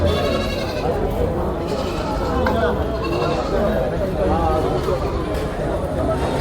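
Goats bleat repeatedly amid the crowded bustle of an open-air goat market, several wavering cries near and loud over a constant babble of people talking.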